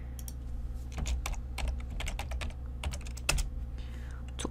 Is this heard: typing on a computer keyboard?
yes